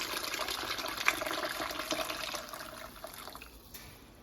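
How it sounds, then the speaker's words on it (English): Fresh water is poured into a pot of strained chicken broth for chicken soup, a steady soft gushing splash that tapers off toward the end, fairly quiet and alone. "So I'm adding some fresh water in here."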